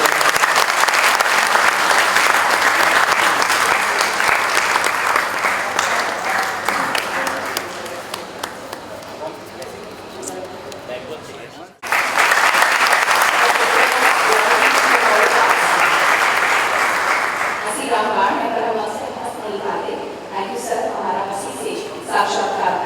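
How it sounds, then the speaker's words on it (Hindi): Sustained loud audience applause at an International Yoga Day event, a dense wash of many hands that briefly cuts off midway, then resumes and slowly thins out toward the end. "एक बार जोरदार तालियां"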